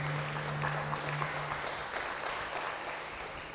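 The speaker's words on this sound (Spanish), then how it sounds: "Dale un fuerte aplauso al Señor" A church congregation breaks into loud, sustained applause at a Sunday service, a dense wash of clapping that holds steady and eases off slightly toward the end, with a low hum underneath.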